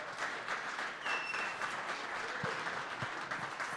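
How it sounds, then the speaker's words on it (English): A live crowd at an evening event applauds in a steady wash of clapping and cheering that holds at a constant level throughout, with no clear speech over it. "look at this crowd here tonight"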